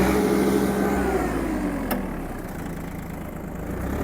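An Iseki TU-217 Japanese mini tractor engine running in gear, a steady, loud mid-pitched drone with a slight shift in tone partway through and no speech over it.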